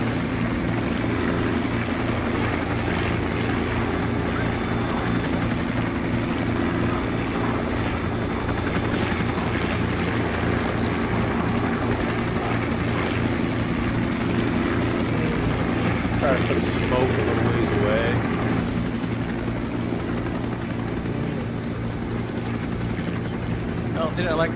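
Iroquois helicopter lifting off in the war game Arma, during a Khe Sanh mission: continuous loud rotor thrum and turbine whine throughout, with voices talking over it.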